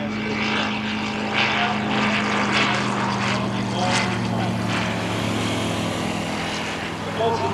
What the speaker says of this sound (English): this new engine, the Rotax 912 IS engine under a sleek, smooth cowling